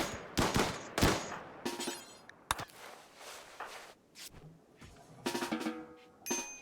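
Scattered gunshots and bursts of fire in RimWorld, sharp cracks spaced irregularly with brief quiet gaps, moderately loud.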